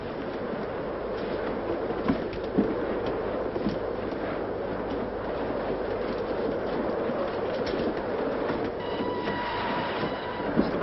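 Passenger train running steadily on rails at night, a continuous rumbling roll with rhythmic wheel clatter and occasional squeals, heard from inside a carriage with no talk.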